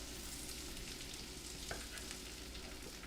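Chopped onion sweating slowly in a pan on low heat, a faint, even sizzle with a soft crackle and one brief clink partway through.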